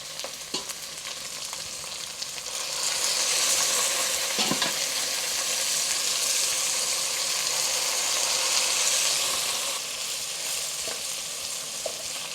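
Ground meat frying in a pan gives a steady, close sizzle with stirring scrapes, building louder a few seconds in and holding before easing slightly near the end.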